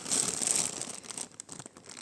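Close, crisp crinkling of a thin plastic packet of vintage jewellery being handled and opened, bright rustles fading into softer scattered crackles.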